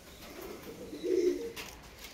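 Saharanpuri pigeons at a loft nest give a soft, low cooing that swells in the middle of the moment and then fades, fairly close and quiet against faint background noise.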